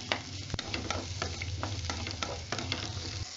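Onions fry in oil in a pan, a continuous close sizzle broken by frequent sharp spatula scrapes and taps as they are stirred, with no talking.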